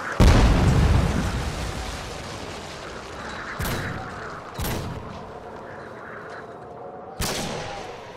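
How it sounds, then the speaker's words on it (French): Explosions from a Call of Duty Modern Warfare 2 team deathmatch on the Derail map: a heavy blast opens, then three sharper booms land at spaced intervals over a steady rumble of gunfire and battle noise. "Missile Predator allié en approche."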